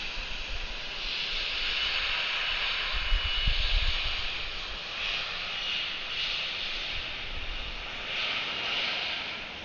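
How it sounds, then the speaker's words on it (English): An Embraer 170 regional jet at Atlanta airport sends a steady, fairly loud jet engine roar with a hissing whine that holds for the whole stretch, swelling slightly midway, with no voices. "Here goes this Embraer 170."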